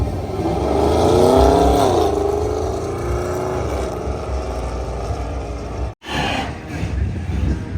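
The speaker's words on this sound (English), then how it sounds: "Chris is heating up his tires a little bit, trying to get some better traction in his right lane." A drag-racing car in the right lane holds a steady, loud engine drone while spinning its tires to heat them, with a brief dropout near the end before the roar returns.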